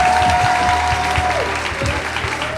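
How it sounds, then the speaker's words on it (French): An audience at a stage dating show gives a contestant a dense, loud wash of applause that continues across the whole short stretch, with a brief tone fading in the background. "faites un tonnerre d'applaudissements pour Margot, s'il vous plaît."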